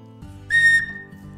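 A 3D-printed plastic whistle blown once, giving a bright, steady shrill tone for about a third of a second, close and loud over a low background hum.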